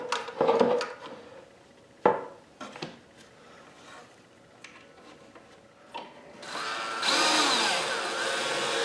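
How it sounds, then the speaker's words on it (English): A drill bores into a wooden cabinet door, with a few sharp knocks and taps first, then a steady close whirring burst of drilling toward the end. "I'm going to drill the hole a little towards the back."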